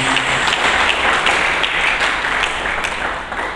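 Church congregation applauding during a Sunday sermon, loud and close, a dense roar of many hands clapping continuously for a few seconds and fading slightly toward the end.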